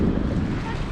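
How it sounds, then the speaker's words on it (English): A short burst of strong wind roaring across open water, with heavy low microphone buffeting and a steady rushing texture, close and loud. "the wind is blowing in this direction"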